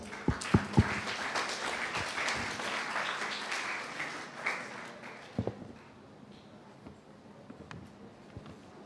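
Audience applause at a school club expo for the STEM Club, a moderate round of clapping with a few sharp individual claps, tapering off into quieter scattered claps.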